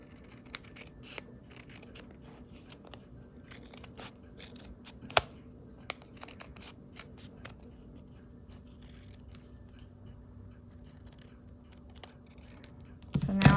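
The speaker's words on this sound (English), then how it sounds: "This allows me to cut off that frayed edge" Scissors snip off a frayed edge of fabric, giving quiet, scattered close-up cuts with one sharper snap in the middle and a louder rustle at the end.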